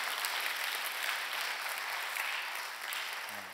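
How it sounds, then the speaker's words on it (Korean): A church congregation claps to welcome newcomers during worship, a continuous, even roll of many hands, moderately loud, ending with a short tone. "여러분 크게 박수로 환영하시지요."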